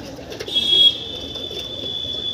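A Panja breed pigeon coos in a loft, one brief soft burst over a steady high electrical whine and low background murmur.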